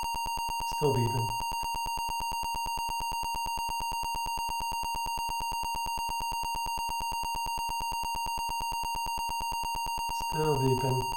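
Rapid, unbroken beeping from a computer stuck in a looping program, an even repeating electronic tone throughout, with short bursts of someone talking near the start and end.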